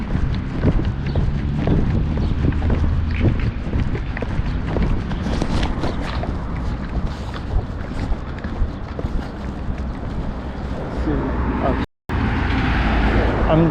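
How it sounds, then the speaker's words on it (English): Cars pass along a roadside near a roundabout in Albania, their whooshing swells rising and fading under heavy wind buffeting the microphone, with no clear talk. "I'm gonna try to cross traffic when there's no cars coming."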